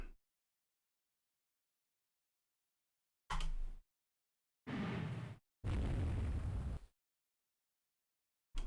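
Small caliber naval guns fire in the naval strategy game Rule the Waves 3: four separate heavy booms, each a short loud burst set apart by silence, with the final blast the longest.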